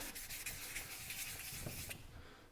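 Sandpaper rubs against hard old paint on a 1930s Sears Junior lantern, a soft, steady scratchy rasp of repeated strokes, faint and close, fading slightly at the end.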